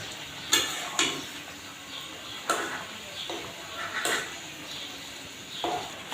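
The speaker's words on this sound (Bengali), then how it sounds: "এখন কেটে রাখা পেঁয়াজগুলো দিয়ে দিচ্ছি। আবার একটু নাড়াচাড়া দিয়ে দিচ্ছি।" Chopped onions are stirred in a cooking pot during a chicken korma, with spoon scrapes and knocks landing at irregular intervals over a faint background.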